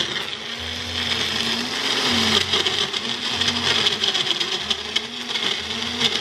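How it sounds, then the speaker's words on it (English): A blender whirs loudly and continuously, blending a green juice with a cup of water, its motor pitch wavering slightly as the contents churn, with no talking. "now we're just gonna blend that all together"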